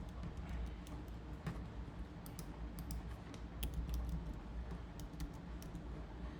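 Quick, irregular clicks of a computer keyboard being typed on continue throughout, close but quiet, over a soft steady room hum.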